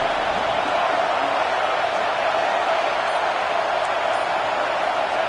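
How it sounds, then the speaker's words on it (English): A dense, steady roar of a large college football stadium crowd at Clemson vs South Carolina, continuous and loud, with a faint whistle or shout rising now and then. "Listen to the crowd energy here in the early going"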